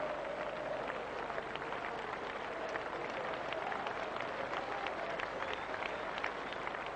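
A cricket crowd at Old Trafford gives sustained applause during the 1998 England vs South Africa Test as Gary Kirsten's innings of 210 ends. The clapping is a steady, distant wash across the ground that never breaks, with faint commentary in places.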